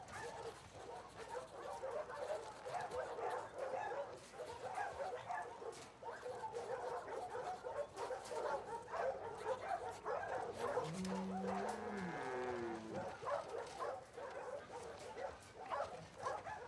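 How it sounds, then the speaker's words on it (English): Dog in The Last of Us Part II gives short yips and a whining whimper mid-scene, moderately near, amid busy game ambience and talking voices. "You crazy dog."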